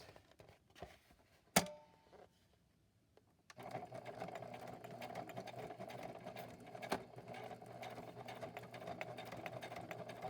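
Sewing machine stitching a seam while making a craft project cover, a steady close mechanical whirr running continuously after a few quiet taps and a sharp knock.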